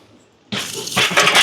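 Homemade lump charcoal poured into a metal charcoal chimney lined with shipping paper, a loud sudden rush of clattering, clinking chunks that keeps tumbling and rattling after a brief quiet start.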